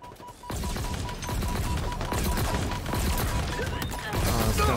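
Rapid automatic gunfire in a Halo Infinite multiplayer match, dense bursts of shots continuing for several seconds after a brief quiet start, with faint voice in the mix.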